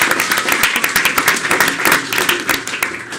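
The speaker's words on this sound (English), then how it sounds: "let's give her a round of applause anyway" A round of applause fills a city council meeting, a dense, steady patter of many hands clapping close by for about three seconds with no voices over it.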